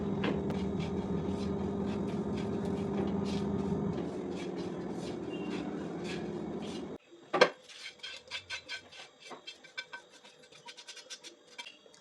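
Already-roasted semolina (rava) frying in ghee in a pan: a steady low sizzle for several seconds, then the hiss cuts off and a series of sharp metallic clinks and scrapes of a utensil against the pan follow.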